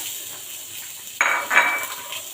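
Onions tipped into hot oil in a pan for frying chicken curry, with a sudden loud sizzle bursting up after a quiet start and continuing close by, a brief clink of metal alongside, no talk.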